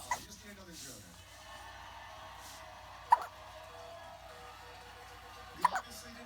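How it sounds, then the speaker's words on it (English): A baby girl hiccups three times, each a short, sharp little catch spaced a few seconds apart, with soft baby vocal sounds between them. "You get the hiccups?"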